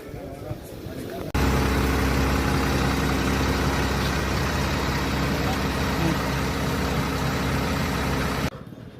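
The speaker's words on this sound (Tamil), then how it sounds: "வால்வோடைய இன்ஜின் சவுண்டு கேட்டிருப்பீங்க" The rear engine of a Volvo multi-axle AC bus idles with a deep, steady rumble that starts abruptly, holds evenly for several seconds, then cuts off; a voice is faintly present beforehand.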